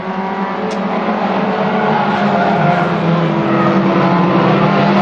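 Race cars roar around an oval track during a finals race, a dense, continuous, loud engine drone from several cars at once, steady throughout without pauses or talk.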